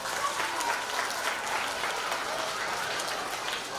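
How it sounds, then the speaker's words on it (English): School children in a classroom or assembly give a round of applause, continuous dense clapping with faint voices mixed beneath it. "Let's give her a round of applause."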